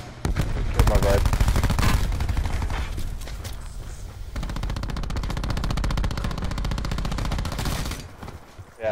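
Rapid automatic gunfire in Call of Duty Blackout, a sustained stream of close, loud shots running almost without a break, with players talking over the shooting.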